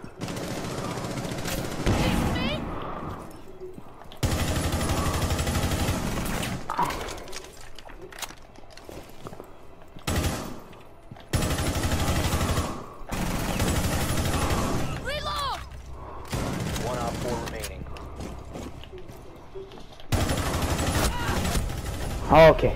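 Vector submachine gun fire in a video game comes in repeated loud bursts of rapid shots spread through the stretch, alternating with quieter gaps, while a person talks over the action.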